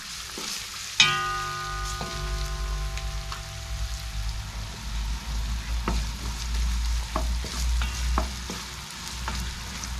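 Ginger, garlic and onion fry in a pan with a steady, close sizzle and crackle, broken by occasional sharp pops and clinks of stirring, with a brief harmonic ring near the start.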